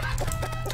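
Chickens clucking in the video game Terraria, a brief burst of close, busy fowl clucks.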